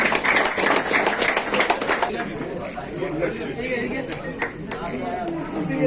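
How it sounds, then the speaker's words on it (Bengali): A crowd claps in a burst of applause at a football team's reception ceremony, fading after a couple of seconds into murmuring chatter and scattered noise. "একটু জোরে করতালি দিয়ে স্বাগত জানাই"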